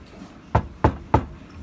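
Three evenly spaced, dull, muffled knocks on a Mazda Millenia car door lined with sound-deadening vibration-damping material, close and clear against quiet.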